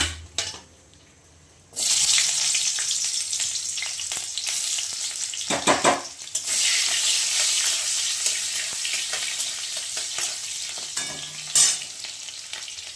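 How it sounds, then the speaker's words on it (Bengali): Chopped onion dropped into hot oil with nigella seeds bursts into a loud, steady sizzle that carries on under occasional stirring and pan clatter, following a quiet opening moment. "আর এদিকে আমি তেল দিয়ে দিয়েছি আর কালো জিরে দিয়ে দিয়েছি। এবার এতে আমি দেবো পেঁয়াজ"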